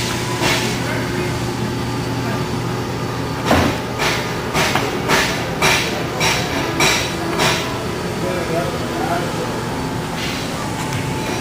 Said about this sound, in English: we're going to continue squeezing the rivets all the way around